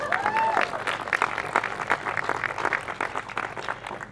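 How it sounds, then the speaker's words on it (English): An outdoor audience at the groundbreaking for the White Center HUB claps in scattered, uneven bursts, with sharp individual hand claps and a brief whistle-like tone at the start; the clapping thins slightly toward the end. "Yes, clap."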